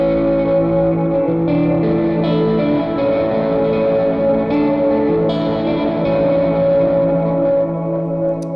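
Sustained electric guitar notes drenched in heavy reverb and echoing delay, ringing and washing into each other in a thick, continuous wash.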